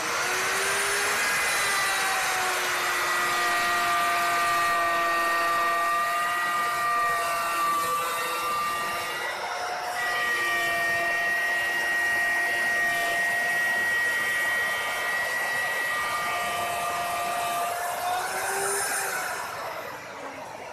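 A Virutex FR160P plunge router cuts a joint in MDF, giving a steady, close, high-pitched motor whine whose tone drifts and shifts as the cut progresses. It runs continuously with no talk.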